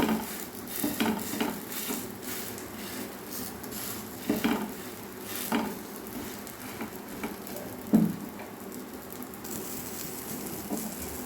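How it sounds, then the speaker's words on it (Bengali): Tiffin in a pan being flipped and pressed with a spatula in a little oil: soft sizzling under repeated scraping and pressing scrapes, with a few sharper metallic knocks. Nearby and without speech. "এবার এক অপর পেট উল্টিয়ে দেবো এইভাবে স্প্যাচুলা দিয়ে ঠেসে ঠেসে চেপে চেপে দেব"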